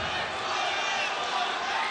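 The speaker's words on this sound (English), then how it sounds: "the crowd is going wild here at Thunder Studios in the closing seconds of this fight" Spectators at a live MMA fight at Thunder Studios roar in a dense, continuous wall of crowd noise during the closing seconds of a bout, loud and unbroken, likely with commentary under it.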